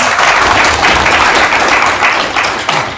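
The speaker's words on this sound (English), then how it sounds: "I just want everybody here, round of applause, following me." Loud, close round of applause from an audience at an artificial superintelligence alliance event, dense continuous clapping throughout with no voices over it.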